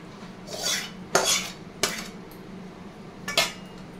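A cooking pot holding a fish curry made with mustard paste and lemon leaves is lifted off the stove, giving a few metallic clanks and scrapes against the burner, one after another, close and moderately loud.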